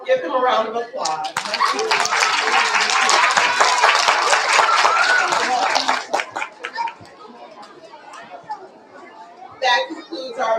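Loud applause fills a school awards assembly for kindergarten and first grade winners, with children's chatter in a busy room, fading out after about six seconds before a voice speaks again.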